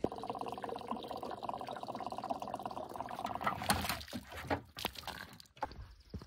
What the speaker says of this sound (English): we're going to take this gallon jug. We're going to put a little water on there, wash the mud off